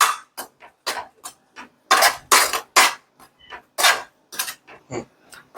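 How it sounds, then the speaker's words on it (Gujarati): A spoon clinks and scrapes against a pan while garam masala and other spices are stirred into dum aloo, producing a series of sharp, irregular metallic taps close by with no talking. "બે ચમચી ગરમ મસાલો નાખી દઈશું અને બધી જ વસ્તુને બરાબર મિક્સ કરી લઈશું"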